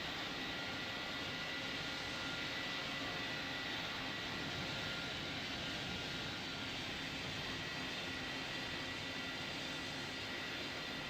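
A jet airliner in the PTFS Roblox flight simulator takes off from runway 13, heard as a steady, broad engine roar with a constant hiss that holds at an even level throughout, with no voices over it.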